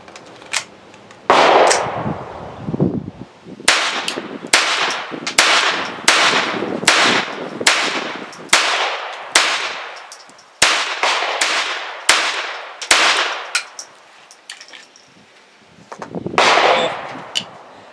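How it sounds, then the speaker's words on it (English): A Walther PPQ pistol chambered in .22 Long Rifle fires a rapid string of about a dozen sharp shots at an outdoor range, evenly spaced cracks with short echoing tails, loud and close. "Another 12 rounds, and that's the Walther PPQ in 22 long rifle."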